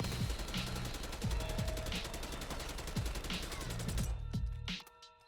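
Full-auto gunfire from a gun in Call of Duty Warzone, a dense rapid stream of shots held steady for about four seconds before cutting off into a short tail of echo and game ambience.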